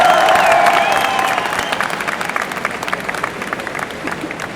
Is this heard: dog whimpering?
no